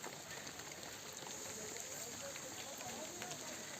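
Steady rain pours in a hillside village, a dense continuous hiss with no letup, fairly quiet and even throughout.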